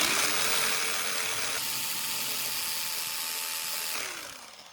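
A power drill whines loudly and steadily as it bores into wood, its pitch shifting under load before spinning down at the end.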